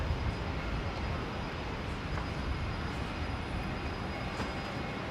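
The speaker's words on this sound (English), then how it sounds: "Just before you can see the departure here of a Velocity 73 over on 19 right there." The jet Velocity 73 departs runway 19 right at Brisbane International Airport, a distant, steady broadband engine roar that holds constant throughout with no talk over it.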